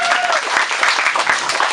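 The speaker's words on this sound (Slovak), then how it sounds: "Veľký potlesk." Wedding guests give a big round of applause, dense and continuous clapping from a close crowd filling the whole moment.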